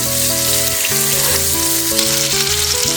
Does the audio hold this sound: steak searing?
yes